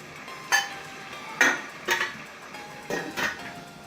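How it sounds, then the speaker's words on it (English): A utensil stirs fried rice ingredients in a pan, giving five or so soft scraping clinks at uneven intervals, quiet and close, with no voices. "So just stir it on top."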